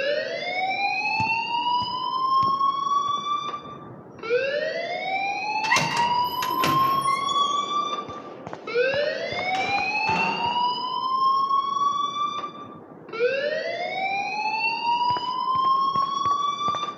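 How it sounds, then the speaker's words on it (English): A school alarm in the video game Life is Strange wails in loud rising sweeps, each lasting about four seconds and repeating four times in a steady cycle, with no voices. "please turn off that alarm since that's your job"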